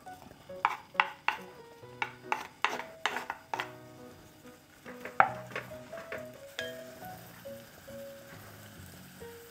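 Scallions stir-fry in oil in a pot over medium-low heat, with soft sizzling under a series of light clinks and scrapes from a utensil against the pot, quiet and close.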